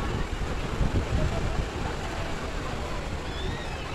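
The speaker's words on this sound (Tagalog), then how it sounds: "Pero maganda talaga ang alon ngayon dito sa Big Wave." Ocean surf at Big Wave beach, a steady broadband wash of breaking waves and wind noise, continuous and fairly loud throughout.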